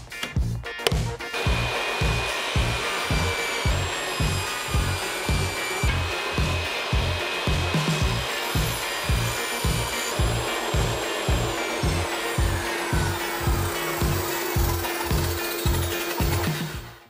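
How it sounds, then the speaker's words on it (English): A table saw rips a leftover piece of cedar into half-inch strips, its motor whining loudly and steadily throughout with a rapid, regular pulsing underneath and no talking. "And I'm going to set my table saw up to a half inch."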